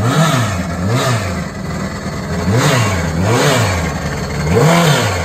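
Turbocharged drag bike engine revving hard in repeated rising and falling bursts, loud and close with a rough mechanical roar, at a West Coast drag racing event.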